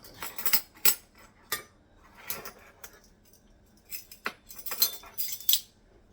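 Dry cookie ingredients are shaken down in a glass jar, giving scattered light clinks and rattling taps in short bursts separated by quiet gaps.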